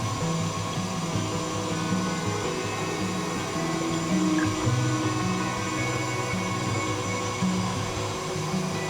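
Electric mixer creaming shortbread dough hums continuously with a steady motor drone and faint rattling, running alone at a constant level throughout.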